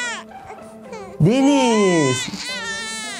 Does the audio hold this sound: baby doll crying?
yes